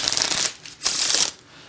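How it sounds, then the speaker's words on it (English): A deck of playing cards being shuffled by hand in two quick riffling bursts with a short pause between, close and crisp with no talking. "maybe you give them a shuffle"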